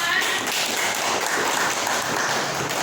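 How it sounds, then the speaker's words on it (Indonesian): A classroom audience of students claps for a classmate during a school lesson, a dense, steady patter of many hands sustained for about three seconds at close range. "Tepuk tangan untuk Gina."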